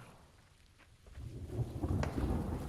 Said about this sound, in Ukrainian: Дощ пішов